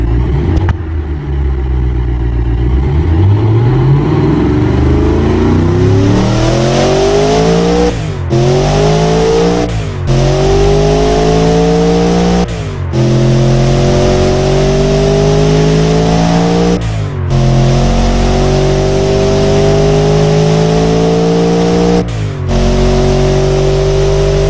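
Mercedes M113 engine in the Automation game, loud and close, revving up repeatedly in rising sweeps, with several abrupt cuts between the climbs and a sustained high-rpm drone.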